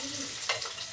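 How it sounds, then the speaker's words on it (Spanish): Onion dropped into hot oil in a pan sets off an immediate close, bright sizzle that stays steady, with a couple of brief spattering bursts near the end. "Le vamos a agregar un poquito de aceite. Voy a dejar caer lo que es la cebolla."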